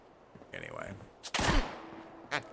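Gunfire in the video game Fallout 76, a short burst of loud shots and a blast mid-clip followed by a single later shot, with a voice briefly heard beforehand.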